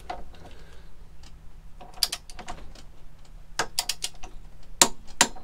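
A torque wrench tightens an axle bolt to 60 newton meters during a front tyre change on a Honda Deauville 650, giving quiet ratcheting ticks and a few sharp metallic clicks, close up, with no talk.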